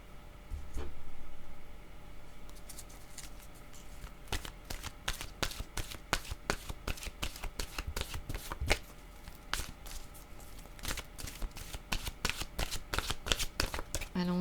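Tarot cards are shuffled in a rapid series of crisp riffling flicks, close and fairly loud, following a short soft rustle at the start.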